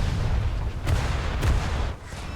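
The Scharnhorst's main battery booms out in World of Warships: two heavy, sharp gun reports land about half a second apart over a loud, rumbling ocean-battle background.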